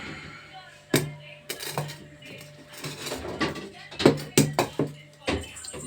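A cooking pot set down on a home gas stove, with several sharp metallic clanks and clinks of pans and utensils amid quiet kitchen background noise, no speech.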